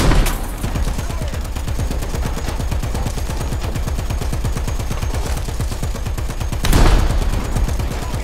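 Tank guns and automatic fire in the War Thunder arcade tank battle with British tanks, a steady rapid stream of shots with a heavier blast near the end.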